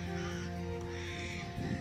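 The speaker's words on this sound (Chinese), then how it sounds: "纯黑，然后叫起来比较像乌鸦一样，嘎嘎" An all-black bird, similar to a crow but of another kind, gives harsh crow-like caws at a rural family farm where goats are kept. The calls are moderately close and run continuously with no talk over them.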